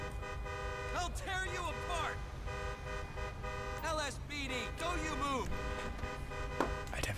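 Repeated car horn honks in GTA V with the LSPDFR police mod, sounding in short bursts and longer blasts over steady engine and traffic noise, with someone talking over them.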